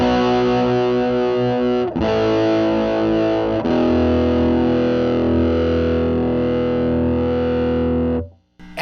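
Sustained electric guitar chords run through a modulation effects pedal, a steady distorted tone with a gentle sweeping texture and a couple of restrikes before ringing out and cutting off, with no talking.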